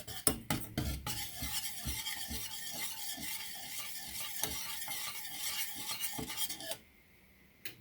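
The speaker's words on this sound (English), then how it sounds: "we are going to sit here and stir" A spoon stirs homemade chocolate syrup in a pot, scraping in steady, rapid rhythmic strokes with light sizzling, close and clear with no talk, then stops abruptly near the end.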